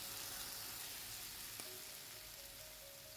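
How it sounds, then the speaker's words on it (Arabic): Chicken pieces frying in ghee (samneh), a continuous crackling sizzle of fat spattering in the pan, steady and fairly quiet with no talk. "ووقت تحمير الفراخ وهي كده لسه بتطشطش في السمنه"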